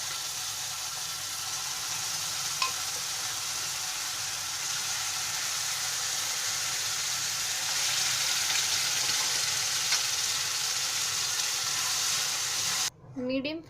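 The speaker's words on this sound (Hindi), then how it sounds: "अब हम इस स्टेज पे इसमें थोड़ा थोड़ा करके साग डाल लेंगे।" Mustard greens fry with browned onions in a pan for Punjabi sarson ka saag, giving a constant even sizzle throughout, close and moderately loud, ending with a brief clatter.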